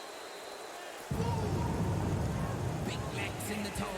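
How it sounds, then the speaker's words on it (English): Steady rain pours down over a stadium in Madden 12, a dense hiss that starts suddenly and holds at an even level, with a faint low rumble of distant thunder underneath. "Sounded like thunder in the background."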